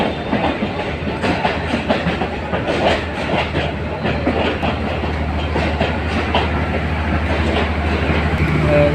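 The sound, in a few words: train entering railway station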